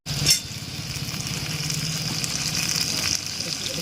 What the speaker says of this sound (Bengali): আলু ফুলকপি ভাজছে।